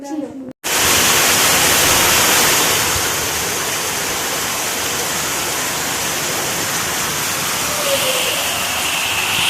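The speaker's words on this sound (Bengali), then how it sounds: "বাইরে ঝমঝম করে বৃষ্টি পড়ছে" A dense, steady downpour hisses loudly and continuously after a brief quiet start, sounding like heavy rain pouring close by.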